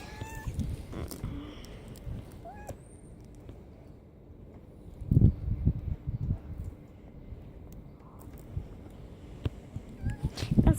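A domestic cat outdoors gives several short meows, near the microphone, over light wind and rustling, with a person talking quietly at times.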